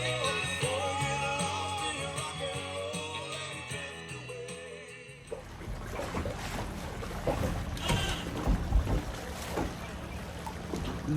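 A boat under way on the Choptank River on a morning outing, heard as a rushing wash of water and wind noise across the microphone, loud and continuous, following a passage of tonal background sound.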